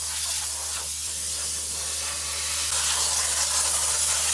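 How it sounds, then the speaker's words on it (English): A rented air compressor blowing down a farm machine at harvest time, giving a steady, loud hiss of rushing air that runs unbroken throughout, with no voices. "So during harvest every year, we rent in this compressor."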